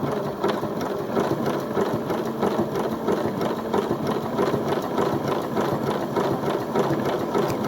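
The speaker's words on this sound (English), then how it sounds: "it's just a matter of trying to keep your machine stitching in the same place" A sewing machine runs steadily while stitching a zigzag appliqué, giving a close, continuous mechanical whir with a rapid, even rhythm and no pauses.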